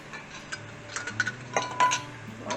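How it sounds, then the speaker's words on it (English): Warm metal canning lids set down onto glass jars of bone broth in a kitchen, giving a few light, close clinks and taps at irregular intervals, with a couple of brighter metallic contacts near the end. "Next, you're going to put your warm lids on your jars."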